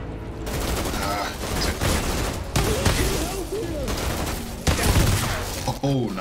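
Rapid gunfire from the Outriders video game demo, a dense fusillade of shots with booming impacts and clattering mechanisms throughout, loud and close, with brief voices talking over the battle.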